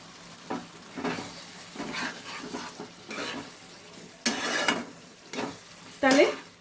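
Chana matar cooking with a little ghee and garam masala in a pan, heard as close stirring scrapes and bursts of sizzling that rise and fall in a loose rhythm, with louder spurts near the end.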